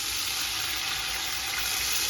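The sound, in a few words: water being poured into a cooking pot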